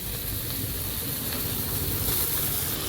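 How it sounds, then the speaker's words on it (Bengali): Potatoes hit hot oil in a pan, raising a steady, loud, close sizzle and crackling hiss of frying that holds unbroken throughout, with no talking over it. "দেখো আলুগুলো এখন দিয়ে দেবো।"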